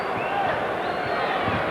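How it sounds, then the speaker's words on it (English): A crowd at a 1979 high school boys' basketball semifinal gives a round of applause for a player's save. The clapping and crowd noise make a steady, moderately distant wash of sound. "He gets a fine round of applause."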